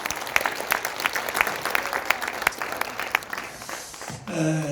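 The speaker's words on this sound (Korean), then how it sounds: "큰 박수로 청해 듣겠습니다" An audience at a public hearing in a press center conference hall applauds with sharp individual claps standing out from steady clapping, which stops abruptly near the end as a hum rises.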